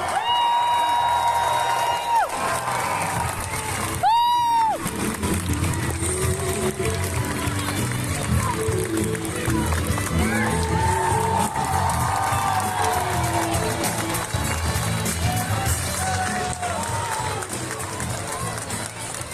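A large crowd at a welcome-home celebration for a basketball player in Čačak cheers and shouts continuously, with a loud whistle near the start. Applause and a voice on a loudspeaker run through the sustained roar.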